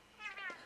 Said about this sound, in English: That was the kitty going meow.